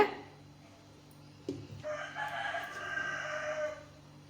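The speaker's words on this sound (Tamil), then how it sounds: "கோழி கத்தம், ஆடு கத்தம்." After a brief quiet stretch and a thump, a rooster lets out one long, loud cock-a-doodle-doo crow nearby.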